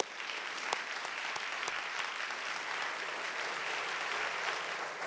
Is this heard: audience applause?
yes